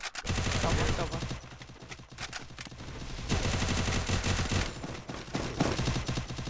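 Rapid bursts of game gunfire crackle almost continuously, loud and dense, with a few single shots between volleys and faint voices underneath.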